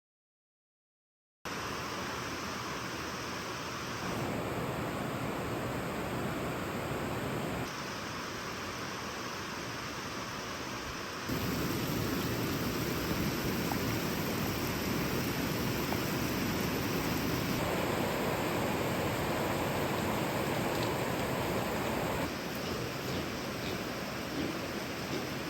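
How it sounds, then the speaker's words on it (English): Heavy torrential rain pours down on an off-grid homestead in the woods, making a steady, dense hiss that holds for the whole stretch and swells slightly partway through, with no voices. "It's raining out so hard."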